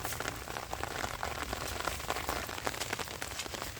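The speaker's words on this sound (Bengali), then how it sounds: "বন্ধুরা বৃষ্টি হচ্ছে" Steady rain patters densely on a surface, a continuous hiss with many small drop impacts and no voices.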